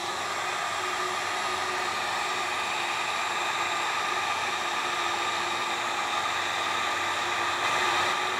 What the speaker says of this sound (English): It needs to get hot with the heat gun.